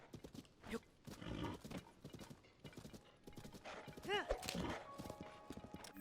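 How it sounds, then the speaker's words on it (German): Horse hooves from The Legend of Zelda: Tears of the Kingdom clop in quick bursts, a whinny sounds in the middle, and a person talks over parts of it. "Gerd, das Pferd, wo bist du?"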